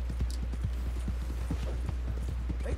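Horse hooves clip-clop in a quick, uneven rhythm in the Red Dead Redemption 2 video game, close and steady over a low, constant hum.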